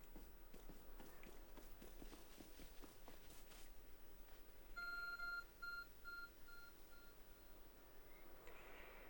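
Repeated electronic beeps from a glowing, phone-like object in the Pokemon Legends: Arceus video game, a short series of evenly spaced tones over game ambience and running footsteps.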